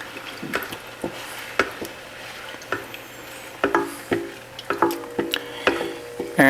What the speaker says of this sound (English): fill up the can of the evaporated milk with whole milk and drop it in. So we're going to stir this.